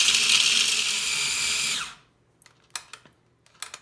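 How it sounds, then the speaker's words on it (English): Small food processor grinding nuts, a loud continuous whirring blade that cuts off abruptly after about two seconds, followed by a few light clicks and taps. "you add your nuts to your little food processor, and you want to grind them so you get a bit of a fine grind."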